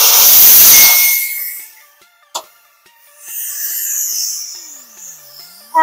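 Air blasts loudly out of a reverse-mount tire on a tire machine once the Schrader valve core is pulled, a hard rushing hiss for about a second that quickly dies away, followed by a sharp click and faint quiet tones.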